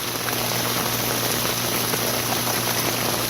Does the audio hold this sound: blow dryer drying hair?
no